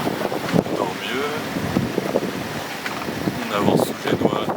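Trade wind rushes steadily past a sailboat sailing under genoa on the open Atlantic, with water sloshing along the hull and faint creaks, while people talk now and then over the wind.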